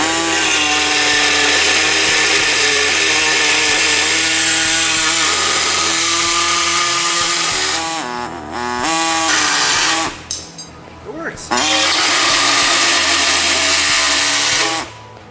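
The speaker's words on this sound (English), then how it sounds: "Let's see how it cuts. We got some 1/8 inch aluminum here." A compact reciprocating saw cuts through 1/8 inch aluminum with a loud, sustained buzzing whine. The pitch wavers as it works, and it briefly cuts out twice near the end before resuming, close up.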